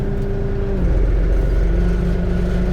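An LS tractor engine, set up with a Tar River drum mower, catches and settles into a steady, loud running drone after a brief cranking start, close by, with no talking.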